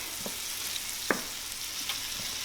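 Vegetables softening with garlic in a pan for a breakfast quiche, giving a steady soft sizzle with a few brief stirring clatters, close and alone without talk.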